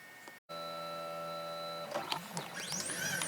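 A CNC PCB mill probes a circuit board to build a height map, giving a steady tonal whine from its stepper motors that breaks briefly, then shifts into warbling, sweeping motor tones as the head moves.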